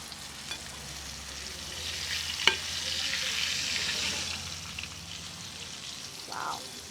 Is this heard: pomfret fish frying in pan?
yes